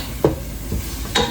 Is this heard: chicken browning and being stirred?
yes